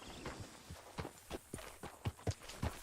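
Hooves of a horse in Red Dead Redemption 2 clip-clop at a slow walking pace, soft and somewhat distant, an uneven rhythm of muffled thuds with no talking.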